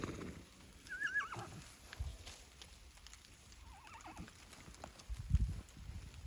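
A mare whinnies with a wavering, quavering call, answered by another neigh a little later, over outdoor background noise and a dull thump near the end.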